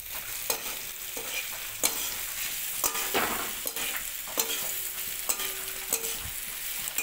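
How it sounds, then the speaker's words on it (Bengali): Spices with chili powder frying in a pan, stirred with a spoon that scrapes and taps the pan in a steady rhythm over a constant close sizzle, with no voices. "এটাকে দেওয়ার পর আমি একটু নাড়িয়ে নিলাম আবারও ভালো করে, খুব সুন্দর করে। ভাজা ভাজা হয়ে যাবে"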